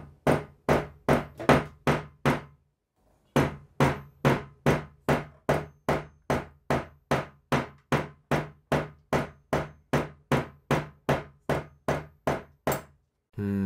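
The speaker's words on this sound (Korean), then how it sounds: "다음 파손 테스트. 일단 스크래치가 없는 부분으로 조금씩 때려보면" A tool strikes a thin tempered glass iPhone screen protector in a break test, giving a steady series of about thirty sharp, loud knocks at an even pace, with one short pause early on.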